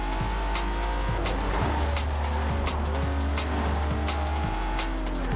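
A Lotus Carlton (Type 104) in Forza Horizon 4, its engine holding a steady loud drone with repeated gear shifts and tyre noise throughout.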